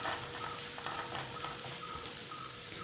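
Crushed cashews sizzle and crackle as they roast in ghee in a pan, a soft, steady frying hiss with occasional stirring scrapes and no talking.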